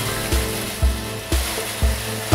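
PRINZ chainsaw cutting into a brick masonry wall for damp-proofing, loud and close, with a steady grinding drone broken by four regular rhythmic strokes of the blade.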